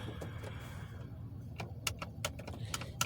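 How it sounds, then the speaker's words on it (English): A door is locked with keys, giving a quick cluster of sharp metallic clicks and jingles that sits over a low, steady rumble of background noise. "Let me lock this door."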